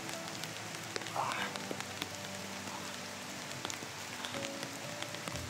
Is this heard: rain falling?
yes